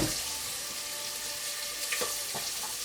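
Roughly chopped onion sizzles in a hot pan while cooking for sambhar, a soft, steady frying hiss with a few faint clinks and pops, quiet and alone.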